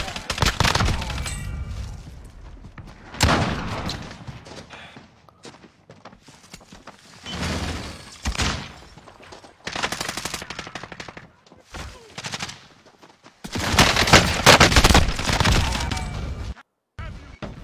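Gunfire in a Call of Duty: Warzone match, loud bursts of automatic and burst-rifle shots arriving in several separate volleys with short quiet gaps between them, some faint footsteps in the pauses.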